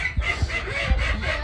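Polish and Serama chickens, including babies, cluck and chatter continuously and close by, with short repeated calls over a busy farmers market background.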